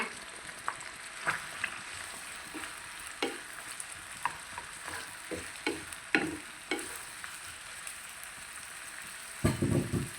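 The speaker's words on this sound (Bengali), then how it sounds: "রাইস পেঁয়াজটা আমি দিয়ে দিলাম। পেঁয়াজটা ভালোভাবে মজিয়ে নিব।" Sliced onions frying in a pan with whole spice mix for a home-style fish chutney, a steady sizzle broken by repeated clicks and scrapes of stirring, with a louder burst near the end.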